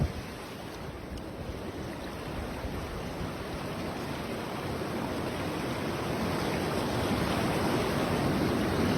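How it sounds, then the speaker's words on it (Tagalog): A broad, continuous roar of a flooded river rushing fills the scene, steady and strong, slowly growing a little louder, with no voices. "Lumaki yung ilog."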